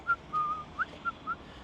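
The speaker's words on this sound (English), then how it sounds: "I've been whistling all blooming day, walking around like this" A person whistles a tune while walking: five short, clear notes, one held slightly longer, close and fairly bright over quiet background noise.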